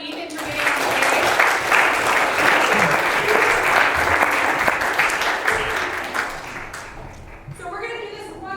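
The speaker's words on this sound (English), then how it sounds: "A round of applause for Ethan for getting on stage" An audience at a middle school theatre performance applauds a student actor, a dense wave of clapping that stays loud and steady before tapering off, with a voice emerging near the end.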